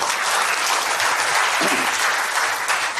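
An audience at a Tamil film appreciation event claps in steady, dense applause that fills the whole stretch at an even level, with a brief voice or cheer rising faintly partway through.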